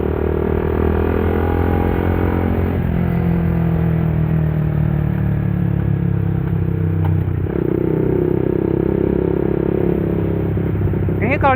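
A Yamaha Vixion motorcycle with an aftermarket exhaust idling and revving close by, a loud steady engine rumble with shifting pitch and intermittent crackling pops.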